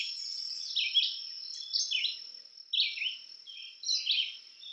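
A red-eyed vireo sings short, high, slurred phrases separated by brief pauses, fairly faint and in an otherwise quiet setting.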